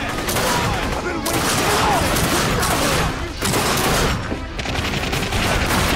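Dense, continuous gunfire from the shooter game The Darkness 2, a loud sustained barrage of rapid shots with brief dips, filling the whole stretch.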